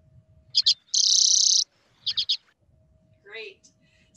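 A recorded call of a small wild bird with a red forehead plays during a kids' Christmas bird count webinar: quick high chirps, a sustained buzzy trill, then more chirps and a slurred note over faint low murmuring.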